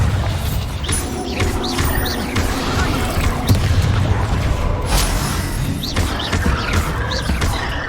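Bombarda blasting spell explosions in Hogwarts Legacy boom amid continuous combat noise, with scattered magical whooshes and impacts layered over a rumbling low end.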